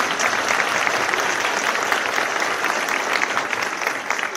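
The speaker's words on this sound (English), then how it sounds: "let's give her a round of applause anyway" An audience at a medical school awards day applauds an absent award winner, sustained even clapping from a large room at constant loudness throughout.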